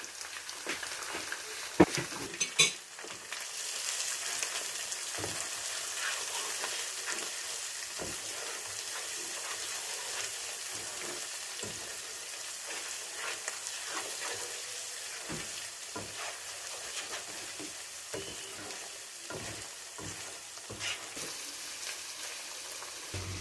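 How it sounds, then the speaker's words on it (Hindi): Spices and chickpeas fry in a pot for over twenty seconds, a continuous hiss and sizzle with scraping stirs throughout. Everything sounds close and steady, with no talking. "हमने मसाले को साथ साथ भूनना है, इसको गलाना है, जलाना नहीं है"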